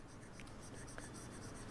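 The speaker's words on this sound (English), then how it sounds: "So, let me erase those." Writing is erased from a lecture board in a steady scraping rub that holds for under two seconds, close and alone, with no speech.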